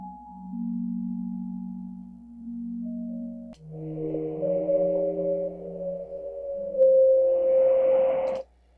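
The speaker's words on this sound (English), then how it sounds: "relaxing concentration tones that anybody can benefit from" Soft sustained electronic tones from a Widex Moment Sheer sRIC hearing aid glide between steady pitches, a calm low hum shifting to brighter held notes before cutting off abruptly.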